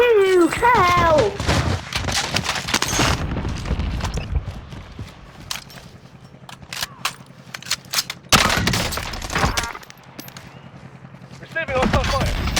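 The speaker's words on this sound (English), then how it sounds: "Receiving hostile fire." Gunfire in the video game Call of Duty Warzone, with bursts of automatic shots and loud booms mixed with game voice callouts and other effects, fairly loud and dense throughout.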